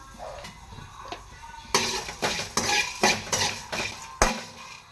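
Curry leaves and seven dried red chillies dry-roasting in a pan, stirred with a utensil that scrapes and clatters against the metal in a series of close, distinct strokes over a faint sizzle.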